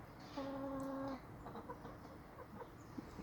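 Back-yard ex-commercial laying hens, one giving a short, clear, drawn-out cluck up close, followed by softer scattered clucks and quiet yard noise.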